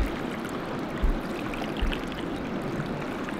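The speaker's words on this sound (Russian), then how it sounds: "Надо слить грязную воду." Dirty water from washing wild garlic pours out in a steady, close gush with gurgling and a couple of low sloshes, with no voices.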